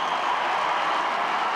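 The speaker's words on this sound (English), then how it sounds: "Listen to that Jamesville DeWitt crowd" A Jamesville DeWitt high school football crowd in the Dome cheers and applauds at a 1997 sectional final against Cazenovia, a dense, steady roar of clapping and shouting.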